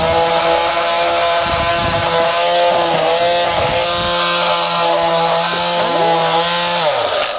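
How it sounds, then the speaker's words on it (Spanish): A handheld electric sander strips old paint and putty from a surface, a steady loud motor whine with strong vibration and scraping grit, running continuously up close before spinning down at the end. "si ves que tu masilla está como muy gruesa y demás y no te quieres arruinar la muñeca, pues tienes la lijadora"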